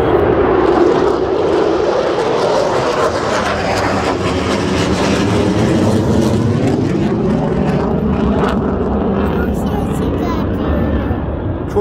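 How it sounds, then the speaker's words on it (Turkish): A fixed-wing airplane flies overhead above a grassy field, a loud, steady roar that fills the whole clip with a slow rise and fall, while voices talk beneath it. "uçak geçiyor. Uçaklar çok bağırıyor."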